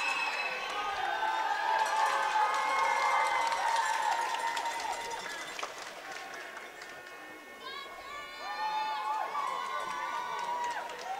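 A raucous crowd at an under-16 final between London and South East keeps up continuous cheering and rhythmic chanting, with many voices swelling and dipping together throughout.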